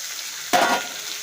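Chickpeas are dropped into a hot frying pan, setting off one sudden sharp sizzle that fades within a fraction of a second against a quiet kitchen background.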